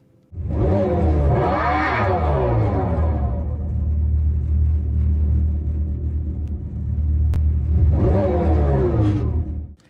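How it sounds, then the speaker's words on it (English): A synthetic motor-like hum from an electric car's artificial engine sound rises and falls in pitch like revving, loud and close, sounding twice with a steadier drone in between. "It doesn't sound like a gas car, but it sounds like a revving motor of some kind"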